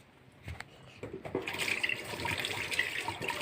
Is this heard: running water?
yes